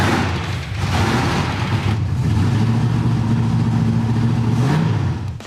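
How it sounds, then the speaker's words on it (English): A rough, worn-out car's engine fires up and revs, a loud steady mid-pitched drone that climbs and holds, then drops away near the end; no talk over it. "let's fire this thing up"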